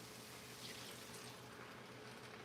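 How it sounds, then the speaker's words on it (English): Water poured into a pan holding drippings from sauteed ground beef gives a steady, continuous wash of pouring and sizzle, close and fairly faint, with no talk over it. "I'm gonna add just a little bit of water to loosen up that flavor from the drippings."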